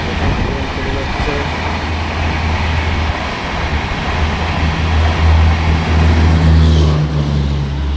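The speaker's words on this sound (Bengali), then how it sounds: "এই পাস হয়ে গেল ট্রেন।" A train passes through Jamilghata railway station with a loud, steady low rumble that swells toward the end, heard close up with people talking over it.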